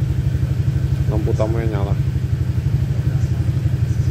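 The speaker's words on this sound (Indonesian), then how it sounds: "Ini kondisi mesin idle, cuman RPM-nya memang agak besar, kurang lebih 1500-an." A Honda Vario motorcycle engine idles at roughly 1500 rpm with a steady, close, even pulsing putter, and someone speaks briefly over it.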